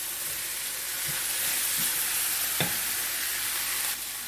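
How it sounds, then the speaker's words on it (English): Beans being added to a simmering vegan jackfruit stew in a pot, with a steady close sizzle and a few soft stirring knocks, one sharper clatter partway through, no talking. "And now I'm going to add my beans."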